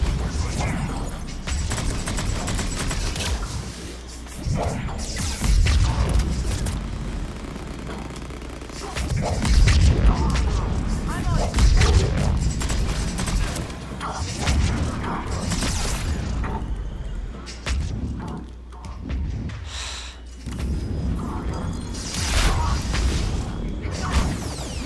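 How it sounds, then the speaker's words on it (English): Grenade explosions in the video game Mass Effect 3 during a multiplayer firefight: repeated heavy booms and crashes overlap with gunfire and mechanical clatter, dense and continuous for most of the stretch, with a voice talking over the action. "Grenades everywhere!"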